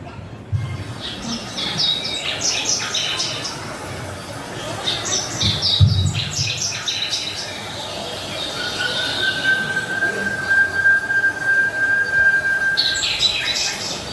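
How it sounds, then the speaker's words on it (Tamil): Birds chirp in scattered bursts in a forest over a soft background hush, joined midway by a long, steady high whistle-like tone. "காடு. மரங்கள் பின்னணி, பறவைகள் சத்தம்."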